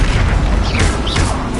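Confringo and Incendio spell blasts in Hogwarts Legacy, a loud dense booming burst with a whooshing fiery roar that fills the whole short moment and sounds close and heavy.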